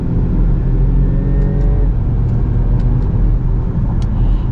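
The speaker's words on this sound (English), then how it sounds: "we're gonna get our full-blown acceleration" A 2020 Land Rover Discovery HSE Luxury under full-throttle acceleration, heard from inside as a loud, steady engine rumble and whir with faint rising tones, rapid gear changes, and no talking.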